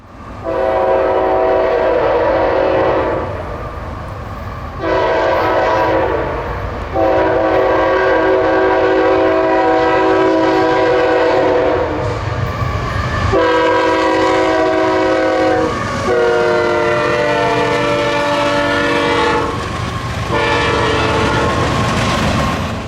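A CSX intermodal freight train rumbles past close by, its horn blaring in several long blasts over the steady roar and clatter of wheels.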